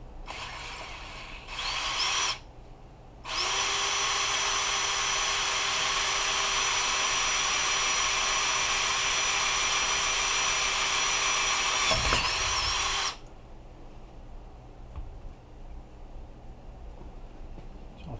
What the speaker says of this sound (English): It says to drill down right through the middle